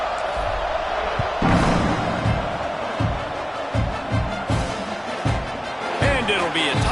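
Football stadium crowd cheering before kickoff at a Georgia game, a broad loud roar that swells and holds, with a commentator talking over it and thumping sounds underneath.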